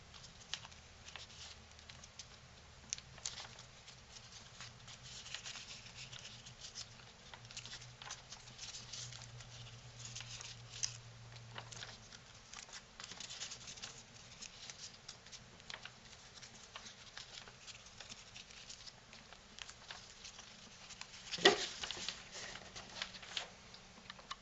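A sheet of paper is folded sharply along V-shaped creases and pinched down, over and over, giving soft, close crinkling and papery rustles in an irregular rhythm with no voices.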